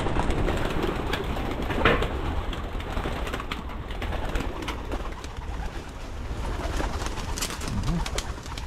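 Pigeons cooing at a loft, a steady chorus of soft, near coos with occasional fluttering wing sounds over a constant outdoor background.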